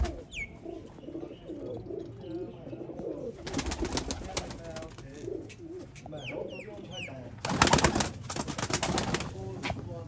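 Sialkoti pigeons coo in soft repeated rolling calls close by, mixed with occasional louder fluttering or rustling bursts, while someone talks throughout.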